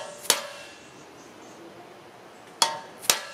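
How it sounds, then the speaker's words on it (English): Three sharp metallic hammer strikes on a 60 degree punch, enlarging holes in the metal of a garden cart being made into a tilting lawn mower trailer; one hit early, then a pair close together near the end. "So now I'll just enlarge those holes with a 60 degree punch."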